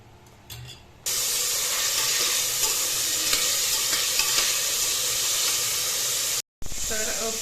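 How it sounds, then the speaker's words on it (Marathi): Paneer shallow fries in a pan with a loud, steady sizzle and hiss that starts abruptly and continues for several seconds, briefly cutting out near the end before resuming. "पालक उकळेपर्यंत पनीर थोडं शॅलो फ्राय करून घेतो"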